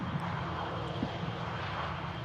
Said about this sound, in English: And this EasyJet just arriving in from Milan